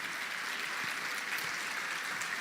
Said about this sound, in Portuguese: Desocupe as suas mãos e pode aplaudir